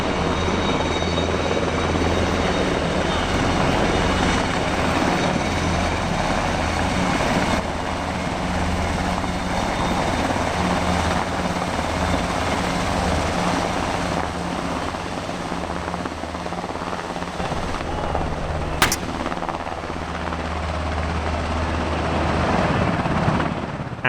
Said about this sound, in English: further reinforcements arrived aboard 4 additional Blackhawks